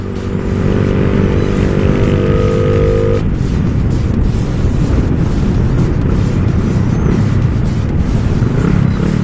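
A Honda Wave 125 motorcycle ridden fast, its engine droning loudly and steadily close to the microphone, with wind buffeting and a brief higher whine that fades early on.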